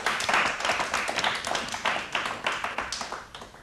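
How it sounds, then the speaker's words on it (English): An audience claps steadily, a dense patter of many hands applauding at moderate volume with no voices. "Let's give them a big round of applause."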